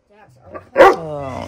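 A dog gives a single loud bark that breaks into a drawn-out whine, close by, after some soft vocal noises.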